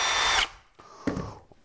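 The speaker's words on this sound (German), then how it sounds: "Jetzt bohre ich das mit einem 3 mm Bohrer vor" Power drill pre-drilling a pilot hole into wood with a 3 mm bit, a loud close whine for under half a second that cuts off, followed by quieter handling clatter and a brief knock.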